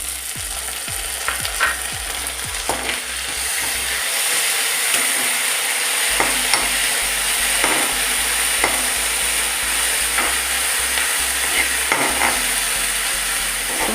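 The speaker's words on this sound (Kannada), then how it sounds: "ಶುಂಠಿ ಬೆಳ್ಳುಳ್ಳಿ ಪೇಸ್ಟ್ ಹಾಕಬೇಕು." Onions fry with ginger garlic paste for a Mangalore-style chicken curry, a constant loud sizzle with rapid rhythmic scraping of a spoon against the pan, pausing briefly before resuming.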